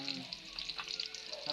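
Garlic and onion sautéing together in a pan for a pechay and sardine dish, giving a faint, steady sizzle with light crackles throughout the short stretch.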